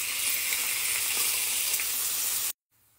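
Beef steak frying in a hot pan with onions, a steady broadband sizzle throughout, close and even, cutting off abruptly near the end.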